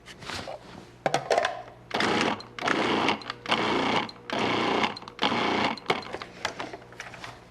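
A Cuisinart food processor pulses a large batch of cream cheese for cheesecake, giving five or six loud motor bursts about a second each, separated by brief pauses, with a heavy whirring, thumping churn.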